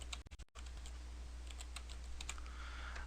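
Quiet tapping of keys on a computer keyboard, a quick cluster of presses at the start followed by sparse, soft keystrokes over a faint steady hum.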